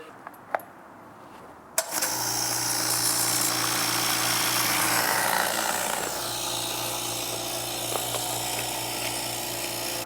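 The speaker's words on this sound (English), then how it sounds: "hopefully this compressor holds up for us a little bit longer" Air compressor on a carpentry job site starts up after a few faint knocks, then runs as a loud, steady motor drone with a dip in level partway through; no talking.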